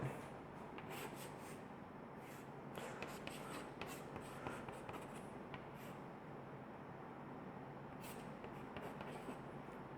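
Chalk or marker scratches and rubs across a board in irregular strokes during a chemistry class on carbonyl compounds, faint and close, with no talk over it.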